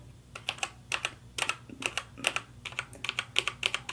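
Rapid typing on an iPad Pro tablet keyboard, crisp clicky keystrokes in quick irregular bursts, close and clear with no talking.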